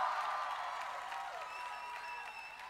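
A camp crowd of adult leaders and cabin leaders cheers and applauds, a dense continuous wash of clapping and shouting with a few whistle-like tones, steady and fairly loud throughout.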